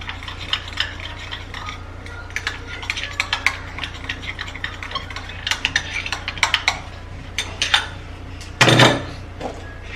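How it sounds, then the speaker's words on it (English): A baking soda and petroleum jelly mixture is stirred in a bowl, with irregular scraping and clicking of the utensil against the container, close by and alone, ending in one louder knock. "I'm gonna turn that into my baking soda and petroleum jelly, and then give it a fine stir."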